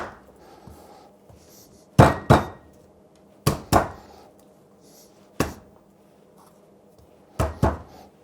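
Garlic cloves crushed under the flat of a knife on a cutting board in a home kitchen, sharp thuds landing in quick pairs and singles with short pauses between, close and distinct over quiet room tone.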